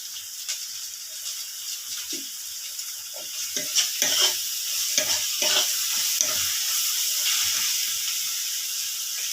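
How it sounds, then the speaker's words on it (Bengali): Chopped ginger and green chillies fry in a pan with a loud, constant hissing sizzle, punctuated by several sharp scraping strokes of stirring near the middle, with no talking. "আদা কুচি দেওয়ার পর অল্প নাড়াচাড়া করে এবার আমি দিয়ে দিচ্ছি যে কাঁচা লঙ্কা কুচি।"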